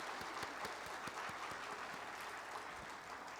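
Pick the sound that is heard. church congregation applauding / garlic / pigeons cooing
church congregation applauding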